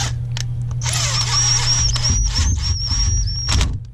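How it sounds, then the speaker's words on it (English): Cordless impact driver driving a screw while changing a thermostat on a 1999 Firebird, a close, loud whirring burst with rapid ratcheting clatter as it reaches torque, ending abruptly. "This is a impact driver, and when it clicks, it's getting a bit much torque"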